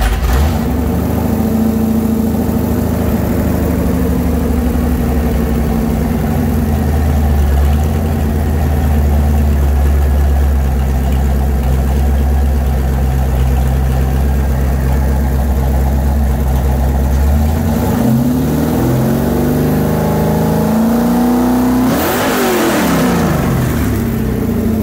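A Ford 427 V8 engine, rated 540 hp with Holley Sniper fuel injection, starts and runs loud and close at a steady idle, then revs up sharply with a rising and falling roar near the end.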